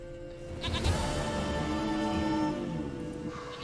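A goat bleats in The Witcher 3 video game, a wavering, nasal cry with a few close calls over a steady background of in-game ambient music and sound.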